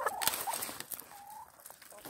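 Farmyard chickens clucking nearby on a rural property, soft intermittent clucks and a short drawn-out call over a quiet outdoor background.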